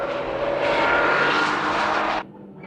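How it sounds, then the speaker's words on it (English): Honda NSX and Mazda RX-7 race cars roaring past at close range on the Tsukuba circuit, a loud sustained engine rush lasting about two seconds before cutting off abruptly to quieter background. "The NSX goes after the RX-7, which made a good start"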